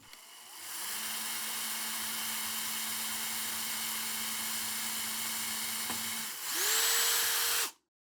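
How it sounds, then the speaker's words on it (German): A steady, loud motorized whine drones for several seconds as a drill bores a hole in an MFT tabletop through a UJK Parf Guide, then the pitch jumps higher in a brief final burst before cutting off abruptly. "Und dann können wir jetzt das erste Loch bohren"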